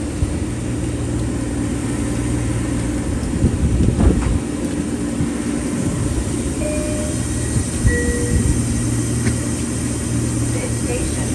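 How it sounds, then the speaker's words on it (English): A Long Island Rail Road westbound train at Mineola station, departing from track 2: a steady low rumble and hum of rail cars runs throughout, with a few brief squeals and a louder knock near the middle, fairly close. "We're going to have a train that's going to be a westbound train that's going to be departing out of track 2 shortly."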